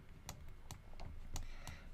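Typing on a computer keyboard, heard as a handful of separate, fairly quiet key clicks spaced unevenly over a low room hum, with no talk.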